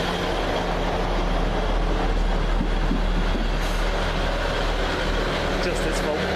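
A Class 158 diesel train runs on a Cardiff to Portsmouth service, heard from inside as a steady loud rumble and drone with low engine hum, while people speak over it.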